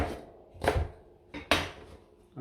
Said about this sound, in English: Then I'm adding this ginger, but I'll chop it into small pieces